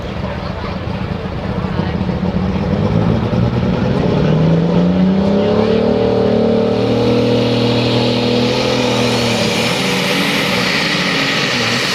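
At a tractor pull, a John Deere pulling tractor roars down the track, its engine note rising and climbing in pitch as it powers ahead, loud and sustained over crowd noise.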